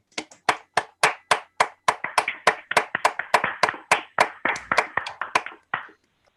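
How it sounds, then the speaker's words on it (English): Slow, evenly spaced handclaps at a National Science Board meeting, about twenty sharp distinct claps close to the microphone in a steady rhythm, ending abruptly; sounds like one or a few people rather than a full crowd. "I hope everyone will just join me now in a moment of well-deserved applause for these outstanding"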